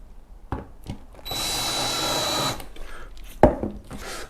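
A power drill drives a trim screw into wood, one steady whir of just over a second set between a few light knocks and clacks.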